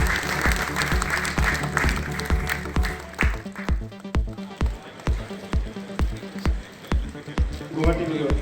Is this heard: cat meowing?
no